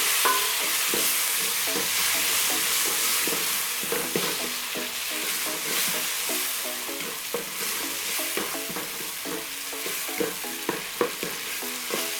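Tomatoes frying in a pan with golden brown onions and spices for chips masala, a continuous sizzle with frequent scraping stir strokes and spoon clinks, getting more distinct toward the end, no talk.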